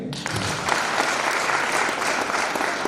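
Guests at a wedding ceremony applaud together, a dense, loud burst of clapping that holds steady for a few seconds without any talk over it.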